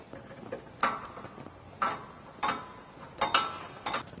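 A ratchet with a 16mm socket loosens the drive shaft carrier bearing bolt on a Jeep Gladiator JT, producing short, faint bursts of clicking at irregular intervals.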